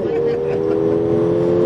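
A Mercedes AMG engine under hard acceleration, a loud, steady close-up drone heard from inside the car with voices talking over it.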